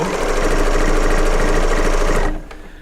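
A serger sewing machine stitches quilt squares in a fast, loud, steady mechanical whir that stops abruptly near the end, leaving a quiet room.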